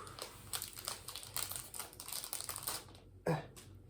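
Trading card pack wrapper being torn open by hand, giving steady close crinkling and rustling of foil plastic for several seconds, then a brief sharper tear near the end.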